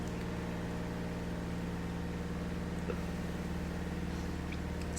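A washing machine hums in the background indoors, a low steady drone with faint rhythmic pulsing, constant and quiet throughout, no voice.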